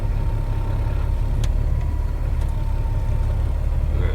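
An old semi truck's engine runs steadily at a low idle-like rumble, a continuous deep drone that stays at an even level for the whole stretch, with a few faint clicks above it and no talk.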